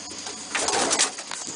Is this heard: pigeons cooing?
yes